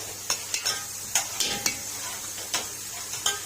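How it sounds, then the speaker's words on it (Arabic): Food stirred in a cooking pot with a spoon while onions for basmati rice begin to fry, giving repeated scraping strokes and clinks at an uneven pace over a soft sizzle, close and clear, with no talk. "هنقلب انا هنا وانت هتقلب هنا، ماشي يا عماد."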